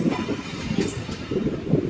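A local train rolls into Ahmedpur junction, a steady low rumble of wheels and carriages with faint rhythmic clatter, continuous and close throughout.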